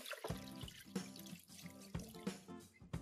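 Water pours and splashes into a pressure cooker holding duck for soup, with a close, uneven gurgling flow and sloshing pulses that come and go over a few seconds.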